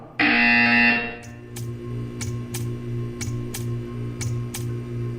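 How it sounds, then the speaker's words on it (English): A loud buzzer tone in the video game Portal 2 sounds for about a second, then fades into a steady low hum broken by a series of sharp, evenly spaced ticks. "You will hear a buzzer"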